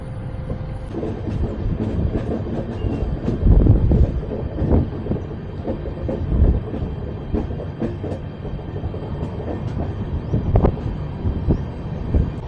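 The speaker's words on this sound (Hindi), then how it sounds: "और कन्याकुमारी से हमारी ट्रेन निकली है ना" Passenger train leaving Kanyakumari, heard from on board: a steady rumble of wheels on rail with rhythmic clickety-clack and some wind noise, loud and close throughout with no talking.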